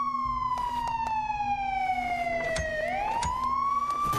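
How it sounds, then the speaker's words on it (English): A vehicle siren in the zombie game Night of the Dead wails in a slow falling and rising sweep, loud and steady, with faint clicks and game noise underneath. "turning off the siren won't help any"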